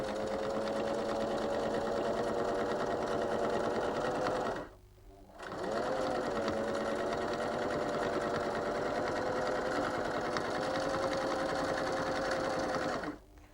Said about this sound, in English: having put the pins in at right angles, I'm able to sew over the top of them